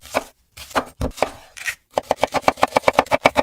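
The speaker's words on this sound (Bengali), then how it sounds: "একটু আস্তে আস্তে কাটো না, না হলে তো তোমার হাত কেটে যেতে পারে।" Knife chopping onions on a board: a few scattered cuts, then a quick steady run of about a dozen close, crisp rhythmic chops, loud and near with no talk.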